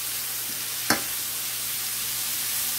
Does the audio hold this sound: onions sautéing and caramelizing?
yes